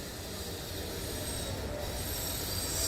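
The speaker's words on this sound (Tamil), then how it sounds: "இப்பதான் ஒரு ட்ரெயின் போச்சு" A Pune Metro train passes through a station with a steady, broad rumble and the high squeal of its wheels, building slightly louder toward the end, with no voices.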